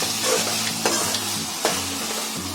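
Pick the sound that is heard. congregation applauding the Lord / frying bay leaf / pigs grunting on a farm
frying bay leaf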